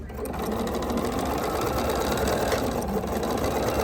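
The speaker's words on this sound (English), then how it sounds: "we're going to sew this one on here really fast" A sewing machine stitches pieced quilt block fabric in one steady, continuous motorized whir that stays level throughout, close and fairly loud, with no voices.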